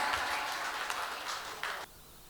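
An audience at a poetry gathering in a Deoria district hall applauds to welcome Azhar Iqbal, a dense round of clapping that carries on steadily and then cuts off abruptly.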